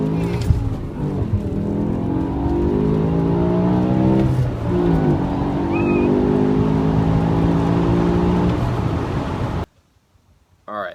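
A BMW accelerates hard from a standstill in first gear. The engine note climbs loud and close, drops briefly at an upshift, then builds again before cutting off abruptly near the end.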